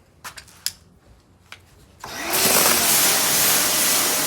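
A pressure washer fitted with a regular rinsing tip, used with a 13-inch Aihand surface cleaner, bursts into a loud steady hissing spray after a few faint clicks and knocks, then keeps roaring evenly.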